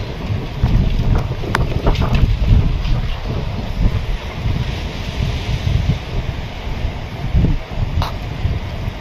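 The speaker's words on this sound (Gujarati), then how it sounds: "અત્યારે થોડોક પવનની ઝડપ ફૂલ" Strong storm wind blows through a village lined with coconut palms, a dense, steady roaring rush with low buffeting gusts pressing on the microphone throughout, and no voices.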